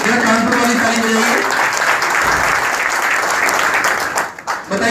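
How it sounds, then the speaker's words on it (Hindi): Audience applause in a hall at a spiritual talk, steady dense clapping filling the whole stretch before tapering off near the end, with voices faintly mixed in. "ताली बजा दें प्लीज इनके लिए"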